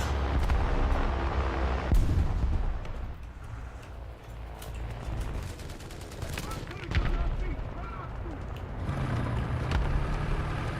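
Tank cannon fire in War Thunder: a few heavy, sharp blasts spaced several seconds apart, each followed by a rumbling decay, over a steady engine drone and other distant battle noise.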